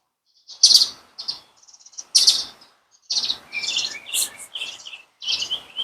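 Several birds chirp and tweet in bright, quick bursts, loud and close, with short pauses between calls and no other sound around them.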